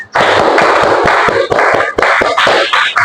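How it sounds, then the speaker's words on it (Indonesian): A class of schoolchildren claps hands together loudly and close by, a dense, crackling burst of overlapping claps with a few brief dips, filling about three seconds. "Baik, tepuk tangan."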